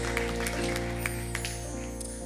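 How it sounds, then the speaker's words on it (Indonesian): Congregation clapping in a church service, a steady dense wash of applause with sharper individual claps scattered through, sustained over a low musical hum. "Tepuk tangan buat Tuhan Yesus."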